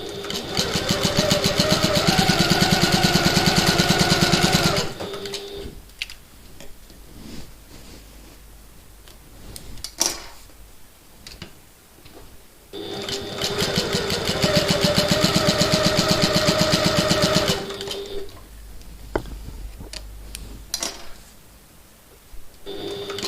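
A sewing machine top stitching a backpack in orange and blue runs in two long buzzing bursts, close and steady, separated by quieter handling noises with no talk.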